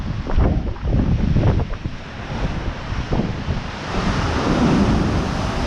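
Stormy sea waves surge and crash against Blackpool's North Pier in a continuous roaring wash, with heavy wind buffeting the microphone throughout and no voices.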